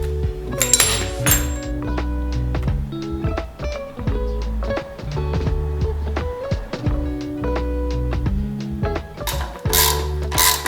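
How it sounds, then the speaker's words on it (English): Pressing out the differential mount bushings on a 1996 BMW E39 with a homemade press tool, a loud, close series of metallic ratcheting clicks and clanks in an irregular rhythm, with sharper clinks near the start and end. "we need to build ourselves a tool for that first. But then we are able to press out the bushings"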